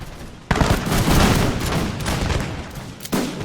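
Musket volleys from massed troops in the Imperial Splendour mod of a strategy video game, a loud rolling crackle of overlapping shots with a second burst near the end.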